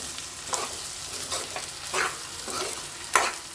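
Egg curry stirred in a pan, with a spoon scraping in a few soft, uneven strokes over a low sizzle, close by and with no voices.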